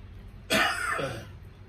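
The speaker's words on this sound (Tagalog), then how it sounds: "Umuubo yung lolo ko." An elderly man coughs once, a sudden close burst followed by a shorter second expulsion, trailing off into quiet room noise.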